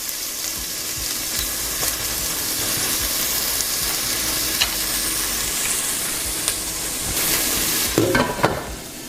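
Onions frying in a pan, a loud steady sizzle with occasional taps, swelling into a burst of scraping and stirring near the end.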